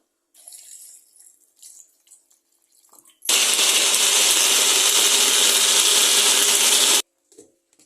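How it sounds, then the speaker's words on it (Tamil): A glass of water pours steadily into a blender jar of grapes for grape juice, a loud continuous splashing rush lasting several seconds between faint kitchen clinks. "ஒரு கிளாஸ் வாட்டர் ஊற்றிக்கலாம்"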